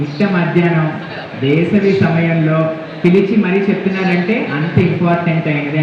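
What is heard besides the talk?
No everyday noises stand out.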